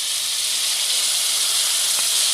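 Chili paste dropped into hot oil with cumin seeds and bay leaf, giving a loud, steady, bright sizzling hiss that holds without a break.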